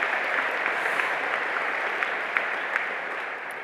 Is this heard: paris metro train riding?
no